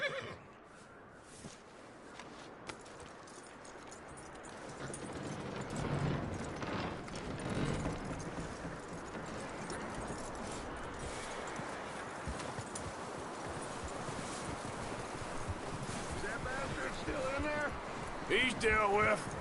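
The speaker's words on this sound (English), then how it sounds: "That looks like a decent horse." Horse whinnies and clopping hooves in Red Dead Redemption 2, a frontier western game, rising over a steady background while characters talk over the scene.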